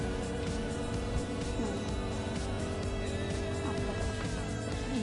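A taxi car drives in a video game, its engine giving a steady, loud, continuous drone with a faint rise and fall in pitch throughout.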